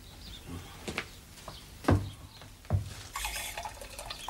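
Water is poured into a glass of strong drink in a short, splashing trickle, with a few louder drips and gurgles over a quiet room and no talk.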